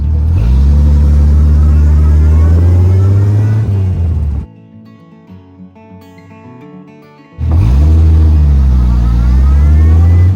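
An 86-year-old classic car roars loudly nearby as it accelerates, drops away briefly to quiet for a few seconds, then surges back with heavy engine noise.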